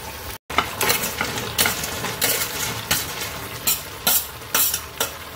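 Fried soya chunks are stirred into a thickening Manchurian gravy in a pan, giving a bubbling sizzle punctuated by a regular series of scraping spoon strokes, close and with no talking.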